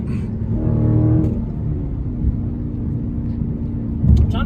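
A Dodge Hellcat Charger racing a Mustang on a highway gives a deep engine rumble that swells into a rev near the start, settles into a steady drone, then rises again briefly at the end, loud and close.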